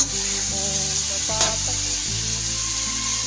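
Continuous hissing sizzle of shrimp frying in hot cooking oil, close by, with a brief scrape or knock partway through.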